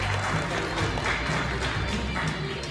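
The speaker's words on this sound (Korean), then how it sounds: "큰 박수 부탁드리겠습니다" An audience at an award ceremony applauds a winner with dense, steady clapping that fills the whole moment at an even level, with faint voices mixed in.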